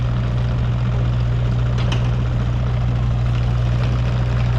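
A 2016 Kubota U55 mini excavator's engine runs at a steady, loud idle nearby, a constant low droning rumble with no break or change across the few seconds.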